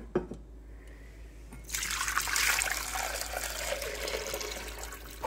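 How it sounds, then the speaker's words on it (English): Water poured into a glass jar of oil set inside a slow cooker lined with a cotton rag, a steady trickling fill starting after a quiet moment and running on close and clear to the end. "pour in water."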